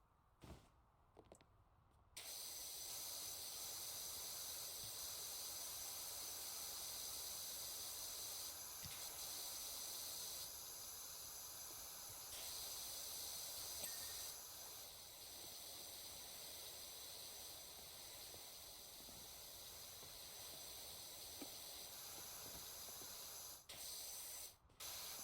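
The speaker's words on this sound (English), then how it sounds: "I sprayed him. I sprayed him good." A pressure washer spraying in PowerWash Simulator, a loud continuous hissing jet that starts after a couple of seconds and runs almost unbroken, with only slight shifts in tone and brief pauses near the end.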